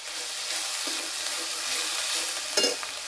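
Turmeric, chili and cumin powder fry with pangas fish in a pan, giving a steady hiss with soft stirring scrapes and a brief louder clatter near the end.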